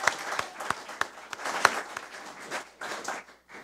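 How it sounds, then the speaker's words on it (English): Audience applause at an environmental awards ceremony in Connecticut, a moderate round of clapping with sharp individual claps standing out, fading toward the end. "Let's give him a round of applause."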